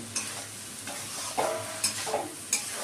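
Soybean curry with garam masala is stirred in a sizzling pan, with several distinct scraping strokes of the spoon at an uneven rhythm over a soft frying hiss, close and moderately quiet, no talking.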